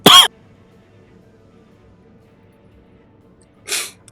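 Two sharp coughs, one at the start and another near the end, separated by quiet with faint background noise.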